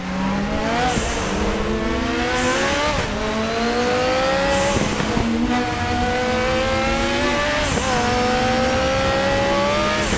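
A Group 5 Zakspeed Capri race car's engine screams and revs hard in RaceRoom Racing at Zolder, loud and continuous, with repeated sharp upshifts and drops in pitch as the gears change.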